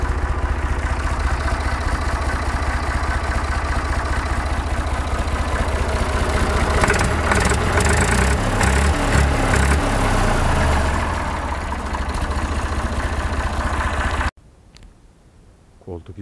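A Massey Ferguson 135 tractor engine idles steadily and loudly right after its first start in six months on a cold day, with a low rhythmic chug running for about fourteen seconds before cutting to near quiet.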